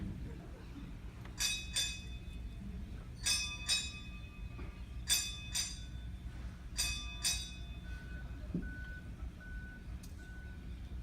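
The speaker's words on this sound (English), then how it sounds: "So, 8 bells for Robin." A ship's bell rings eight times at a memorial service to mark the end of a watch, struck in four evenly spaced pairs of clear, ringing tones over a low, quiet background rumble.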